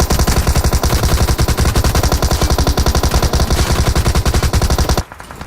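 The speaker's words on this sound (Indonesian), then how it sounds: "Gue ditembak dari atas, mah." Rapid automatic gunfire in PUBG Mobile, a loud, continuous stream of evenly spaced shots lasting several seconds before stopping abruptly.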